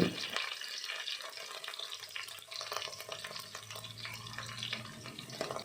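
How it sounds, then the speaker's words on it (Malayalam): Curry leaves and green chillies sizzle and crackle steadily in hot oil for a bitter gourd pickle, a dense continuous frying hiss with faint stirring and clinks, fairly close with no talking. "ആ വേപ്പിലയും നമ്മൾ കീറി അതിലേക്ക് ഒന്നിച്ചിടണം ഇനി അതൊന്ന് ചൂടായി വരട്ടെ ഒന്ന് മുരിഞ്ഞൊക്കെ വരട്ടെ"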